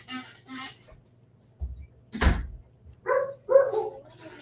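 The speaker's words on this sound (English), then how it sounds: "I'm going to shut the door here" Someone handles and shuts an indoor door: a low thump, then a louder clunk as it closes, followed by a few faint creaks and muffled knocks. Brief speech is heard before and after.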